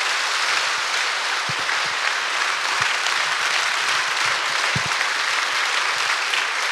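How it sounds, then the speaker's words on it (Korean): A church congregation applauds to welcome a pastor to the pulpit, a steady dense wash of clapping from a large room lasting several seconds, with no voices over it. "박수로 환영하겠습니다."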